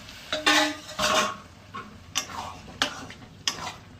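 Boiled mung dal and a little water going into a pan for a vegetarian tarka: scattered light metallic clinks and taps of a utensil against the pan, with soft stirring, fairly quiet and close.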